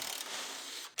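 A ratchet wrench gives a short, quick burst of rasping clicks turning a bolt on a Yukon, close and fairly quiet, ending in a brief pause and one last click.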